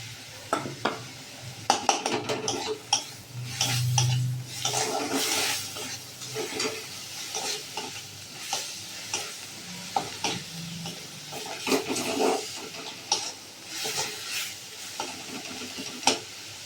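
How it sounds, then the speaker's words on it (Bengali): Ginger garlic paste goes into a pan of frying onion paste, bringing a close, steady sizzle broken by irregular scraping and clattering stirring strokes. "এবার দিয়ে দেবো আদা রসুন বাটা।"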